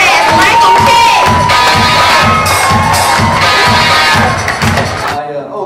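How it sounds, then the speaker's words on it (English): An audience in Albany, Georgia cheers and claps loudly for a comic magician, with a dense roar of shouting, children's shrieks and steady rhythmic clapping that fades toward the end. "clap your hands for comic magician"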